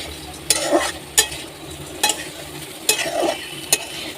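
Repeated scraping strokes of a spatula stirring Maggi noodles in a hot, faintly sizzling pan, about five strokes at an uneven pace, close by.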